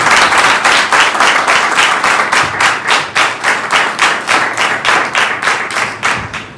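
A church congregation claps in unison, a loud, even rhythm of about three claps per second that carries on steadily for several seconds with no talking.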